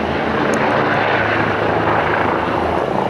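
An ambulance helicopter descends, roaring loudly and steadily overhead in Vienna, Austria, its rotor and engine noise filling everything with a constant, dense rumble.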